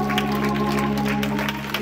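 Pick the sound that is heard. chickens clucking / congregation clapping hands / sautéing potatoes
congregation clapping hands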